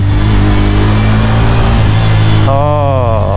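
A Bajaj Pulsar N160 Fi ABS motorcycle with an RPM fault linked to its throttle position sensor gives a loud, close engine drone, then the pitch wavers up and down in a rev near the end.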